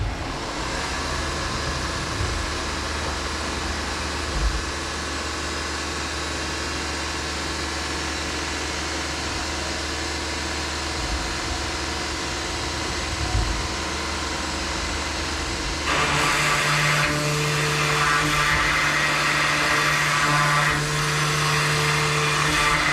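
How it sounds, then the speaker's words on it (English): A milling machine cutting with a 1/2-inch end mill drones steadily and loudly. Partway through, the tone shifts to a higher, harsher whine as the cut changes. No voices. "I'm gonna get the 1/2-inch end mill going here"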